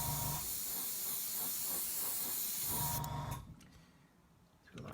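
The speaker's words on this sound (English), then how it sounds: "Clear the airbrush there." An airbrush sprays paint onto a 1/35 Takom MkIV model tank, a steady close hiss that cuts off and fades to near silence before a short burst returns at the end.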